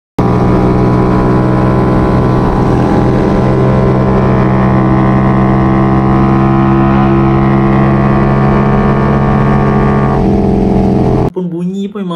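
A QJ Motor SRV 250 V-twin motorcycle engine idles and revs steadily up close, a rich, throbbing drone that holds loud throughout before cutting off near the end.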